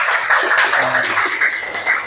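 A classroom of students claps together in steady, dense applause that fills the room, loud and continuous from start to finish.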